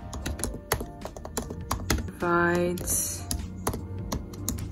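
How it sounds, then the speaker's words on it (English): Computer keyboard typed on with one hand: quick, uneven bursts of close keystroke clicks, mixed with a person talking. "I will be typing with one hand"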